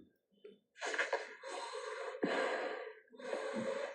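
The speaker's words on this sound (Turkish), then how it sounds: "Bu ne biçim nefes alışveriş?" Heavy, loud breathing in long rasping gasps and exhalations, four broad bursts close to the mic with brief gaps between them, no talk.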